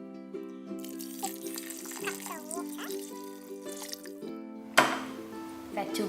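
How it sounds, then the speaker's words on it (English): Water is poured into a pot of aloo paneer curry, potato and cottage cheese, before pressure cooking, with soft liquid sloshing and a brief louder splash near the end over a steady tonal background. "Now we're gonna put some water in it."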